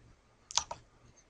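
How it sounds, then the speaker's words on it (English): A mouse clicks the OK button in Visual Studio 2012, giving two quick, light clicks close to the microphone against a quiet background. "And I click OK."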